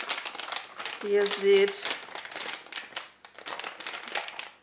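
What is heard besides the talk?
crinkling silver coffee bag being cut for crafting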